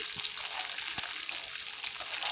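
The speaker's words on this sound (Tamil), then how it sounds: "ஒரு நாலு சாம்பார் வெங்காயம் ஒரு வரமிளகாய் கிள்ளி தாளிக்கிறேன்" A steady, bright sizzle of shallots and dried red chili tempering in hot oil, with a brief clink partway through and no talking.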